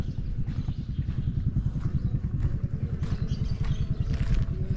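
Motorcycles on a muddy lakeshore, a close, loud mid-pitched engine putter with rough clattering pulses that carries steadily throughout, no speech.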